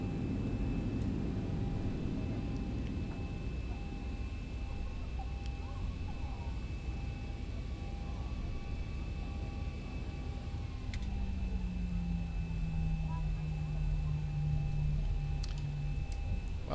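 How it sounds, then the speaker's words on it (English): A Delta Boeing 737 taxis at night at Charlotte in X-Plane 11, heard from a 737-800 cockpit. A steady, fairly quiet engine whine and hum carries throughout, with a low tone that rises and holds near the end. "Delta taxiing out in front of us."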